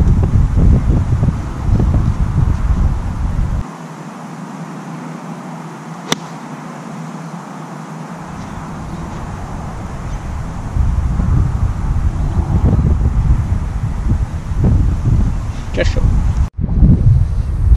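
Wind gusts across a golf course on a par-3 hole, rumbling low and loud against the microphone in uneven surges with a calmer lull midway, while a voice is faintly present.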